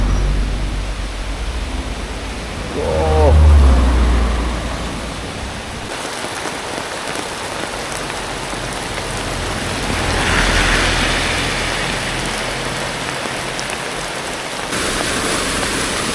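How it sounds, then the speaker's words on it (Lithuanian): Steady, dense rain pours down continuously on a road through bamboo in Colombia's coffee region, a loud broadband hiss with a brief low rumble partway through. "Ir lietus ateina."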